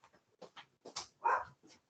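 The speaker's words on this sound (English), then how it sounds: "Sorry, Mr. Day, my microphone off because my dogs are barking" Pet dogs bark and whimper in short, choppy bursts somewhere in a home during a council meeting call, several quick yips and one stronger bark, fairly faint.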